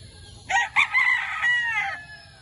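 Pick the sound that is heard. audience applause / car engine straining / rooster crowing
rooster crowing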